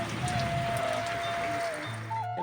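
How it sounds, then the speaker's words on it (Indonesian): Rain patters steadily on surfaces outdoors during an eel-fishing outing, a soft, even hiss with faint tones and distant voices underneath. "Jadi turun hujan dong"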